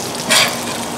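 Smash burger sizzling on a griddle table in a garage: a dense, steady hiss of frying with a brief louder scrape near the start, close up and with no talking.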